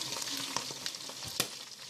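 Chopped lung sizzling and frying in a pan for kuyrdak, a steady crackling hiss with a few sharper pops and stirring scrapes close by, no voices.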